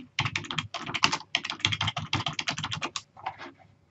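Quick, irregular keystrokes clatter on a computer keyboard as a search is typed, a dense run of close, crisp clicks with brief pauses and a few slower taps at the end.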